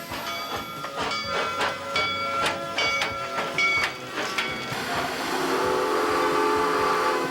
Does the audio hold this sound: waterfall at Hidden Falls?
no